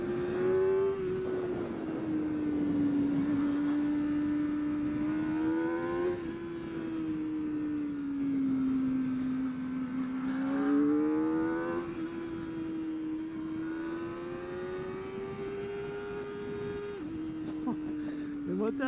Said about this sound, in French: Le moteur est très sympa à l'approche de la zone rouge